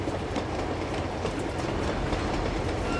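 A moving train in Uncharted 2 gives a constant loud rumble of rolling wheels with rhythmic clickety-clack, a dense, unbroken roar that fills the scene with no talking.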